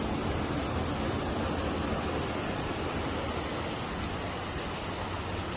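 Steady broadband wash of ocean surf heard from a resort terrace, a continuous even roar with no distinct breaks or voices.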